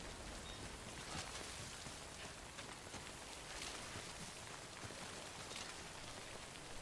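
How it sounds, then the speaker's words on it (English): Rain falling in a video game, a steady dense patter of drops on surfaces that stays even throughout, quiet and continuous with no voices over it. "Like this rain here."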